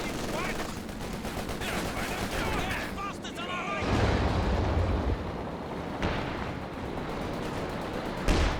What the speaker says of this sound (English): I think I heard the land mattress firing off as well